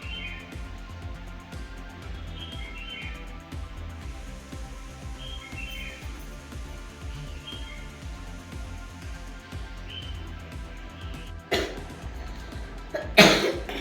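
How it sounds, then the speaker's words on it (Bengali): A young girl coughs twice, short and sharp, near the end after a quiet indoor stretch with faint bird chirps in the background. "আহারে কি কাশছিস রে মা"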